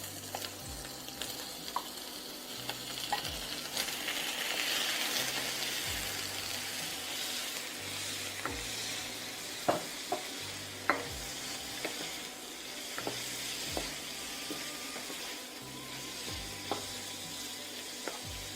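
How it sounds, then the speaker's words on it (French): Shrimp fry in a hot pan for nasi goreng, a continuous close sizzle broken by scattered stirring knocks and spatula scrapes against the pan, with no talking, for a sustained stretch. "On met les crevettes délicieuses et savoureuses dans la poêle"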